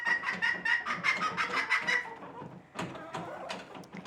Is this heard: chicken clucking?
yes